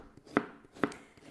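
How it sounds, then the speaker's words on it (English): Onion is diced with a knife on a chopping board: three crisp, evenly spaced chops, close and clear in a quiet kitchen. "So I'm just going to dice some onion"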